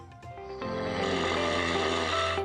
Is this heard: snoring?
yes